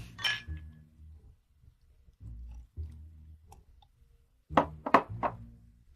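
Drinking glasses clink together in a toast at a dinner table laden with food. After a quiet, low murmur, a quick run of three or four bright, sharp clinks comes close up near the end.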